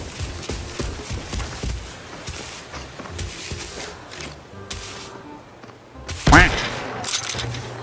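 Video game gunfire from a sniper rifle and pistol in a Northridge lockdown match, several sharp shots scattered over the stretch with one loud close crack near the end, mixed with footsteps and game noise.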